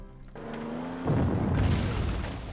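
Artillery fire in the wartime strategy game Panzer Corps: a low hum gives way to a single deep boom that rolls on as a heavy rumble for over a second.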